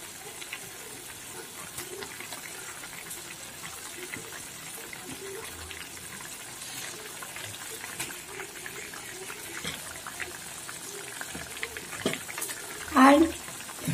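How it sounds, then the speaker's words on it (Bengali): Bengali curry broth for potol dolma bubbling and simmering in a pan, a steady soft seething hiss throughout with occasional louder pops, close by, and a brief voice near the end. "দেখুন বন্ধুরা, ঝোলটা আমার ফুটে উঠেছে।"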